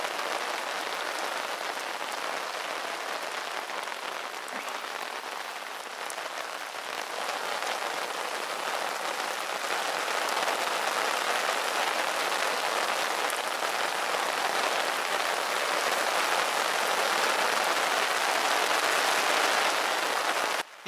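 Steady rain patters on a surface beside the water during an Easter Monday fishing trip in Poland, a dense continuous hiss that holds a constant level and swells slightly toward the end, with no voices.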